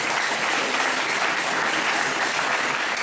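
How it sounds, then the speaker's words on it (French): A crowd at an outdoor instrumentalist caravan event in Hêvié applauds with steady, dense clapping that holds evenly throughout. "Ça s'applaudit encore s'il vous plaît."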